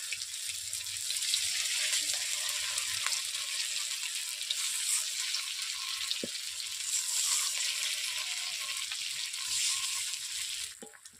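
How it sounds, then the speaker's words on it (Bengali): Fritters of helencha greens in rice batter fry in a pan of oil, giving a steady broadband sizzle that holds for about eleven seconds, with a couple of faint clicks and no voices. "এইভাবে আমি বড় ভাজার জন্য দিয়ে দিচ্ছি"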